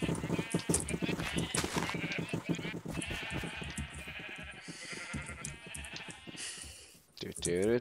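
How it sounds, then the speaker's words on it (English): Sheep bleating in the Minecraft video game, repeated blocky bleats and game noise layered densely throughout under a person talking. "These sheep are super annoying."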